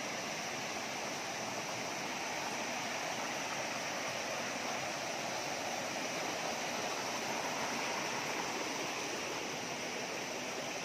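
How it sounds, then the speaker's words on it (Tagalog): A waterfall near a mountain summit roars in a steady, even rush of falling water, constant and moderately distant, with no voices over it. "Ayan yung falls."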